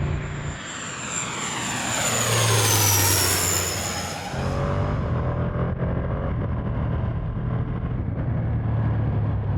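A Ducati Panigale V2 motorcycle carries its rider along a road with a loud, sustained engine drone. The pitch slides down as it slows, then settles into a steady lower rumble.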